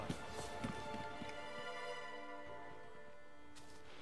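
Horse hooves clip-clop in The Witcher 3: Wild Hunt amid steady game music and ambience, the hoofbeats moderately close and blending into a continuous layered background, with a brief whinny-like touch near the start.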